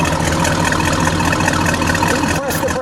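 A 1972 Buick GS Stage 1 with its 455 engine idles steadily at a loud, even level, its low rumble continuous and close, with a brief sharper noise near the end.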